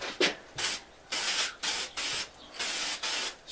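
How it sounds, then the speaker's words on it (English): Finish sprayed onto a wooden board indoors comes as a series of close, loud hissing bursts, each lasting about a third of a second with brief pauses between them, and no talking. "so I'll talk as I'm spraying here"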